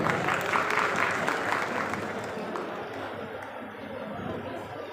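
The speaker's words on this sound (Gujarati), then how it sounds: "સૌ મિત્રો આપણે તાળીઓથી વધાવશું" An audience claps steadily at a student scholarship award ceremony, a dense, even wash of applause with faint chatter that eases slightly toward the end.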